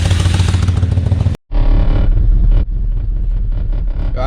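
A BMW E32 engine runs loud and raw through a broken exhaust, a steady, clattering rumble that cuts out for a moment and then carries on.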